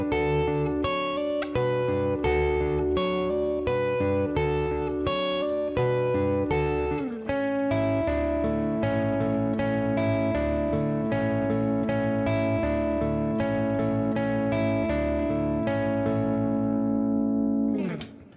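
Electric guitar plays the chorus riff, steady picked notes over sustained chords with a clear rhythmic pattern, repeating for about eighteen seconds alone before ringing out at the end.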